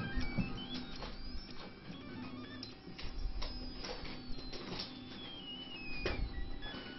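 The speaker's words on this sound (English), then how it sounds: "here go the final perimeters" A 3D printer lays down the final perimeters of a thin, flexible non-planar FDM part, with stepper motors whining in rising and falling pitched sweeps and small clicks and ticks, quiet and close, with no talk.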